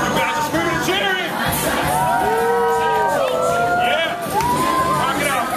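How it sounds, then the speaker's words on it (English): Excited fans at a Phineas and Ferb meet and greet scream and cheer, a dense crowd of mostly high, shrieking young voices with rising whoops and chatter, loud and close throughout. "You guys are screaming and jittering."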